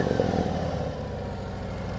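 A Harley-Davidson CVO Road Glide, a 115 hp hot rod bagger, rumbles steadily with a close, constant engine drone while being ridden, with no talk over it.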